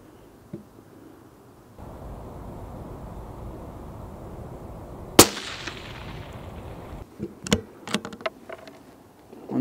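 A CZ 457 thumbhole laminate rifle chambered in 17 HMR fires a single sharp crack outdoors at moderate distance, followed by quieter clicks and handling noises of single-loading the bolt.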